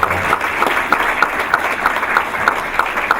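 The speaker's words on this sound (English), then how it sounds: "Give him a round of applause." An audience at a school board meeting applauds a newly introduced director of safety and security, a steady, moderately loud round of many people clapping with a regular underlying beat throughout.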